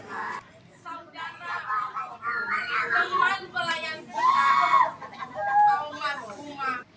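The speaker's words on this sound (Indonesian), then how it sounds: "Jeritan bocah berusia 7 tahun ini terasa menyayat, begitu memilukan di tengah ibadah pemakaman" A seven-year-old child screams and wails in grief during a funeral service, a sustained, shrill crying that rises and falls over several seconds, with other voices mixed in close by.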